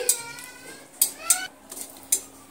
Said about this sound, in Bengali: শুকনো লঙ্কাকে একটু নেড়ে চেড়ে ভেজে নিচ্ছি